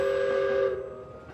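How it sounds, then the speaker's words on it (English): Train brakes squeal in a steady, loud, high metallic whine that holds for about a second, then fades and thins out. "you feel a jolt as the train brakes start squealing"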